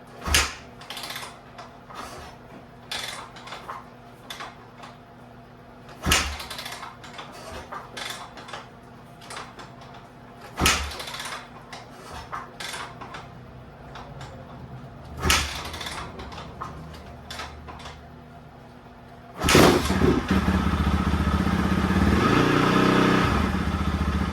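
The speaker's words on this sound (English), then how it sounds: "It's probably gonna take a few kicks because I had the gas tank off" Snowbike engine being kick-started after its gas tank was off: several sharp mechanical kick strokes and clatters, then the engine catches and runs with a loud, steady roar.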